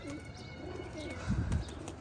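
Pigeons kept at a pigeon club coo softly nearby in low, rolling calls, with a brief busier burst near the end and no one speaking.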